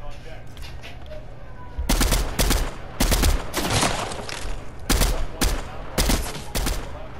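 Bursts of rapid gunfire from a video game firefight, several loud volleys in quick succession with short pauses between them, set over a low steady game background.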